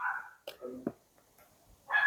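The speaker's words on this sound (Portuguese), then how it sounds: "Desculpa os cachorrinhos querendo latir." Small dogs bark in a few short, sharp yips, close by and fairly loud, with quieter gaps between them.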